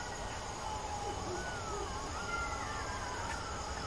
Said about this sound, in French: Il y a plein d'hyènes qui crient.